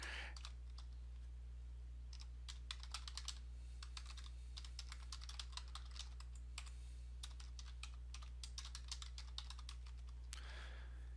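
Steady clicking of computer keyboard keys as login details are typed, in bursts of fairly close keystrokes over a constant low electrical hum, with no talking.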